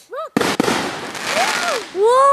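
Fireworks burst in a single loud crackling blast after a short whistle, followed by rising whistling rockets as another one launches, with excited voices around.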